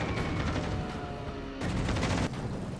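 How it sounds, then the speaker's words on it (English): Dive bombers attacking a Bismarck battleship in the naval video game World of Warships Legends, heard as dense rumbling explosions and rapid anti-aircraft fire, with a loud fresh burst of blasts midway. "So I start off with the dive bombers, just because I'd rather save the torpedo bombers for when the enemy ships are more spread out."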